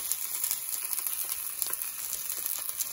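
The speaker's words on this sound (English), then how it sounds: "now I'm going to stick in the steak" Steak searing in a hot cast iron pan, giving a steady, dense sizzle and spitting of fat that stays close and fairly loud throughout, with no voices.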